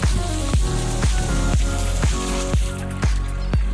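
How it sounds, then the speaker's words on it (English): Water dripping from a cheap rubber hose fitting at a marina, a steady rhythm of close drops roughly every half second over a constant background hiss. "Just some cheap rubber dripping there."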